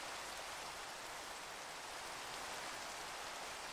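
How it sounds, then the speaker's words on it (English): Rain falls steadily in the Minecraft video game, a soft, even hiss of rainfall that stays constant and faint throughout with no other sounds. "I am literally right on the edge of the rain. Like, it's raining."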